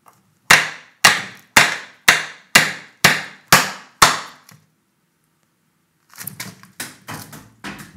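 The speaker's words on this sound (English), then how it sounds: "you just wanna lay your cucumber down and then chop it." Eight sharp, evenly spaced knife chops through a cucumber on a cutting board, loud and close, then after a pause several quicker, softer chops follow.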